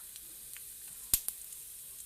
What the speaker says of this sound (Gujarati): અને પછી એ તેલમાં વઘાર કરવાનો. થોડી રાઈ, થોડું જીરું